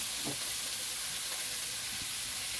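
Paprika stirred into a frying pan for pork sinigang gives a soft, steady sizzle broken by a couple of utensil scrapes and taps, close but fairly quiet, with no talk.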